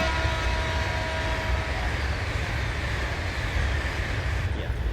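JR East E5 Hayabusa bullet train in Train Simulator running at speed on the Tohoku high-speed line, a steady, loud rumbling roar with a thin whine that fades partway through, continuous and without talk.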